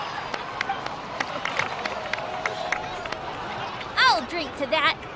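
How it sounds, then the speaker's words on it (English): A crowd in the Genshin Impact video game applauds and cheers in a steady patter of claps with scattered shouts, and voices break in near the end. "So, please give another round of applause for them"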